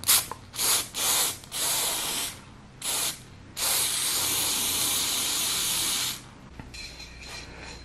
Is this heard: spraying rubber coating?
yes